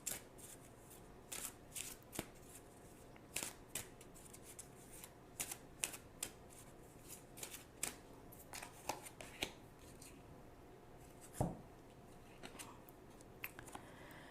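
Tarot spirit cards being shuffled in a quiet room, a string of crisp riffling bursts and soft flicks repeating irregularly for about fourteen seconds, close and fairly faint, with no voice.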